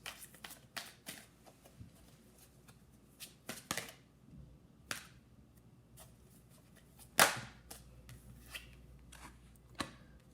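Oracle cards being shuffled and pulled, repeated crisp riffling bursts and slaps at close range, with one loud sharp snap near the end and quiet pauses between.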